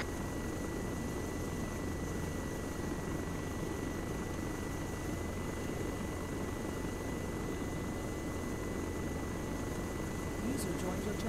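A Havoc attack helicopter lifts off in a military video game, its rotor and engine producing a steady, constant thrum and whine throughout, with a voice talking faintly over it.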